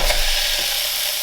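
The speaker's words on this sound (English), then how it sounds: "So I'll whack some oil in there just to get these things really frying hard." Sausages fry in hot oil in a pan, giving a steady, close, bright sizzle with a faint stirring scrape, with no one talking.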